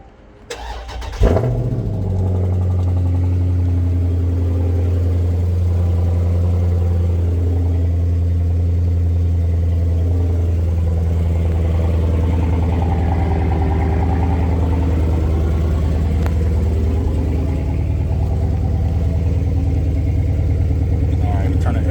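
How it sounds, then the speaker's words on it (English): A 2023 Chrysler 300C SRT cranks with a short starter whir, fires up with a loud burst and settles into a deep, steady idle rumble that holds close and constant. "So what I'm gonna do is hit the brake, start the car up."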